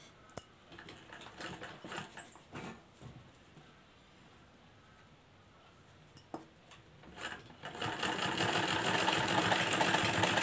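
A sewing machine stitches samosa lace onto a round kurti neckline, with scattered clicks and handling knocks first, then a sustained close mechanical whir as the machine runs steadily toward the end.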